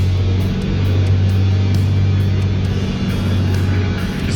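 A Dodge Challenger on a test drive rolls past on Bald Eagle Street, its engine a steady, loud low rumble that holds throughout without any talk.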